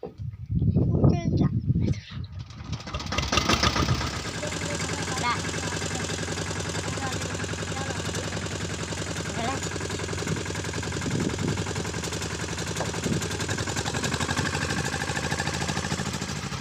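A tractor engine runs steadily while spraying pesticide over a cotton field, a continuous loud rumble after a few seconds of noisier starting sound, with no voices over it.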